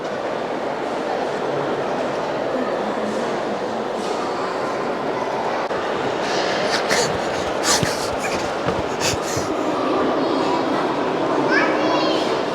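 Rumbling of a passing Intercity 125 train with wheels clattering on rails, continuous and fairly loud, while children chatter and play throughout at a campsite.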